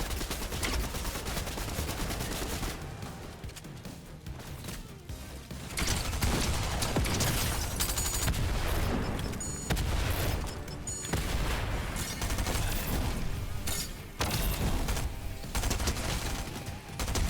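Rapid, dense gunfire from a Fortnite match fills the scene, sustained bursts of automatic weapon fire and explosive booms layered together at high intensity with only short dips in the action.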